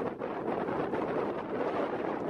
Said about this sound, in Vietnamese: Thời tiết hôm nay là gió cấp 5 các bạn.